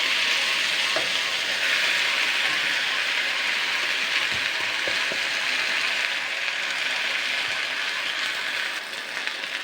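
Chopped jute leaves frying in hot oil in a wok, a loud, steady close-up sizzle and crackle that runs throughout with a few faint clicks, no talking.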